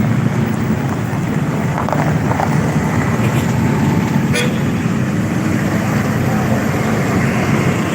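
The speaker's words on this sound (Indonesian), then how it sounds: "Bus pariwisata William" Busy road traffic at night during Eid arrivals in Java, with a tour bus approaching amid steady loud engine rumble and several short horn toots over continuous crowd and street noise.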